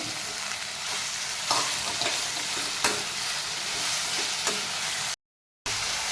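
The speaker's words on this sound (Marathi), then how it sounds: "पाच मिनिट आपण कांदा आणि शिमला मिरची यामध्ये फ्राय करून घेऊ" Onion and capsicum frying in a pan for paneer chilli give a steady close sizzle, with a few sharper stirring scrapes and clinks along the way and no talking.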